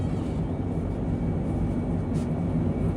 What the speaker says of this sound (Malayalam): ഒരു വണ്ടി ഇതാ ഇവിടുന്ന് ഓവർടേക്ക് ചെയ്യുകയാണ്